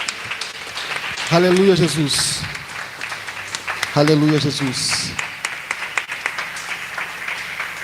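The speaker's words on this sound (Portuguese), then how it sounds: "Suas palmas podem aplaudir o nome de Jesus" A congregation claps hands in praise during a home worship service. The claps are scattered and crisp beneath louder voices calling out twice.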